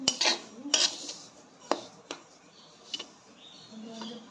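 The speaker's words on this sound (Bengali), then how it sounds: "তাই আমি তিলটাকে ভেজে নিব।" Sesame seeds being dry-roasted in a pan for filled sesame pitha, with a utensil scraping and tapping against the metal in scattered close clinks and light stirring, no talk.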